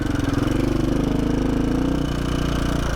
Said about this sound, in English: The engine otherwise is running pretty good.